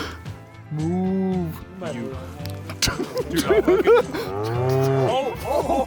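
Cattle moo repeatedly on the Colorado Trail, several long drawn-out calls close by, mixed with other voices and bellows.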